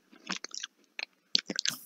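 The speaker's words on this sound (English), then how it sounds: "Can you hear me chewing?" A person chews food right up against a microphone, producing crisp, irregular crunching bites and wet mouth clicks separated by short pauses, with no talking.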